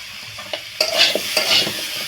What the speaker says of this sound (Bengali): কুমড়ো আলুটা মশলার সাথে খুব ভালোভাবে এইভাবে কষিয়ে নেব